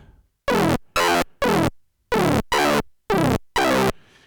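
A rich, buzzing synthesized tone, a sync buzzer sound with FM added in maxYMiser, played as seven short, separate notes of varying pitch, each held briefly with gaps of silence between.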